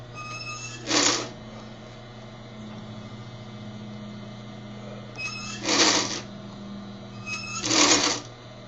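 A sewing machine stitches in three short bursts over a constant low motor hum, each run about a second long, close up with no talk.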